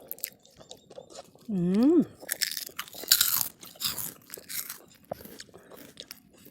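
A crunchy, fully mature green Khiew Sawoey mango from a 30-year-old tree is bitten and chewed up close, giving loud crisp crunches after a short voiced hum, with a few quieter chews following.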